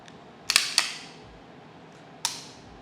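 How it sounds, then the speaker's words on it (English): A Glock 17 pistol trigger dry-fired indoors: a few sharp, dry mechanical clicks close by, a quick cluster of two or three snaps followed by a single isolated click a couple of seconds later, with no voices. "I want you to pull the trigger on this Glock 17"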